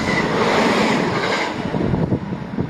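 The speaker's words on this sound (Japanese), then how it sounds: "その間に留置線から回送電車が発車していきました" An empty out-of-service electric train departs from a siding at Kyotanabe station and rolls past close by, a loud steady rumble that thins out, followed by faint rhythmic wheel clatter.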